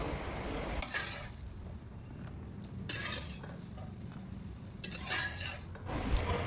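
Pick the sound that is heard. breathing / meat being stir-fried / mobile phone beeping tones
meat being stir-fried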